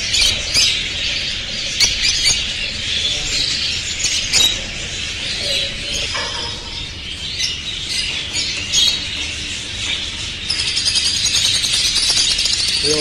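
Lovebirds squawking in a busy, continuous flurry of harsh chirps and rattly calls, close and loud, with a louder burst near the end, at a bird shop in Baghdad.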